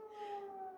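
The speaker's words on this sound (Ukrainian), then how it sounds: "Сирени звучать по всій ненці України." A faint, steady air raid siren tone drones in the distance in Ukraine during wartime, holding a constant pitch with no other sounds.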